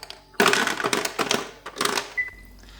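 Portable countertop ice maker running its mechanism that forms eight cubes at once, giving a close burst of crunching, cracking and rattling clatter with several sharp knocks, then a brief higher mechanical whine as it settles.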